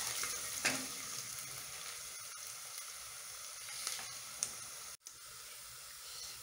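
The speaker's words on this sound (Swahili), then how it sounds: "as we wait for our onions to get ready, you add garlic and ginger. Make sure you stir well" Onions fry with garlic and ginger in a pan while being stirred, giving a soft, steady sizzle with a few faint scrapes and clicks from the stirring.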